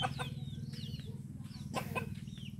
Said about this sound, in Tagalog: Mga manok nila.